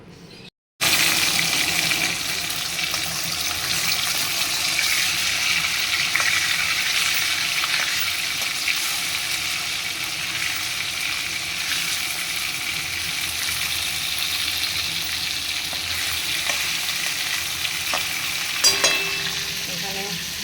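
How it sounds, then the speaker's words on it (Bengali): Onion tempering sizzles in hot oil in a pan before mustard-poppy paste is added for mustard fish, a loud continuous close frying hiss with occasional stirring scrapes and a small clink near the end. "একটু পেঁয়াজ ফোড়ন দিয়ে সর্ষে পোস্ত বাটা দিয়ে এটা রান্না করব"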